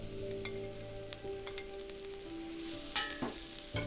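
Porcini mushrooms searing in ghee in a hot pan, a close, steady sizzle with a few sharper crackles and scraping stirs, no talking.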